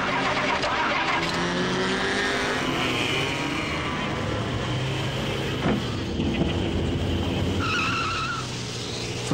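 Race cars on a warm-up lap, engines droning and whining as they pass with shifting pitch and a tyre squeal, loud and continuous with no talk.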